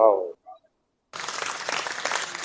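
A brief voice at a live online audio chat gives way to about a second of silence, then dense, steady applause follows a vocal performance and runs to the end.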